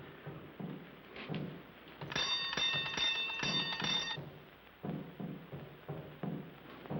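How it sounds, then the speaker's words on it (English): An electric doorbell or buzzer rings loudly and continuously for about two seconds at a closed front door, with faint shuffling and footsteps before and after. "You ring the bell."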